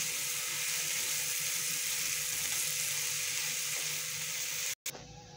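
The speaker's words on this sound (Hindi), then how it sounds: "दही डाल के दही के साथ हम लोगों ने अच्छी तरह से भुनाई करनी है।" Mutton masala frying with yogurt in a pot for biryani gives a steady, close hiss and sizzle that holds at an even level. A short drop-out comes near the end before the sizzle resumes.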